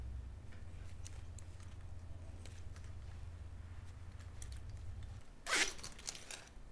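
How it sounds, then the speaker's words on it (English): A zipper slide is pulled down along a 15-inch zipper tape, making one short, bright rasp near the end of a quiet stretch with faint handling sounds, close and clear. "hold on to the tape, and pull down on our slide"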